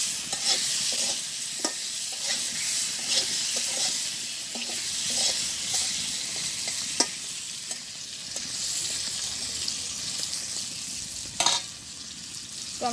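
Potatoes frying in hot oil in a village kitchen, a steady bright sizzle with the occasional clack and scrape of a spatula stirring the pan, close and fairly quiet, with no talking.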